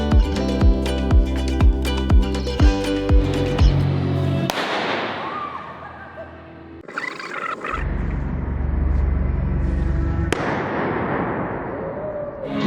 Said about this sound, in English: I made it explode!